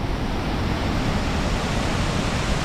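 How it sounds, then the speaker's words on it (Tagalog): Pagsanjan Falls waterfall sending down a heavy, steady rush of water: a dense, broad roar that fills the whole clip without a break, loud and close, with no voices. "Yan ang Pagsanhal Falls. Maraming tubig."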